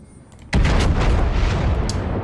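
A warship's main guns fire in World of Warships, a sudden loud blast after a quiet moment, followed by a heavy rumbling roar that stays strong to the end.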